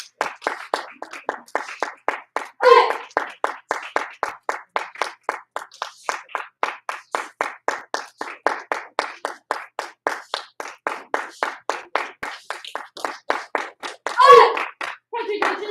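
Children in a martial arts class clap for a classmate after his Chun-Ji form, with crisp claps in a steady, even rhythm of about three per second. A voice briefly rises over the clapping twice.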